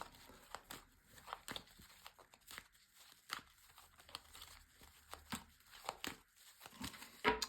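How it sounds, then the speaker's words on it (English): Tarot cards are shuffled by hand, giving soft, quiet crinkly riffles and taps that repeat irregularly over several seconds. "So first of all, a good shuffle."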